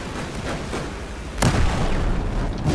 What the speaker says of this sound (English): explosions like crazy